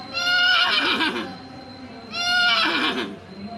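A person does a voice imitation of a horse neighing, two loud, shaky whinnies separated by a short pause, sounding close with a quiet background.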